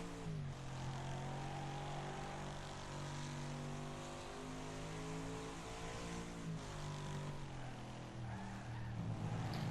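Race car engine drones steadily through a lap of online racing in Wreckfest, a constant layered mechanical roar with shifting harmonics, loud and continuous with no talk.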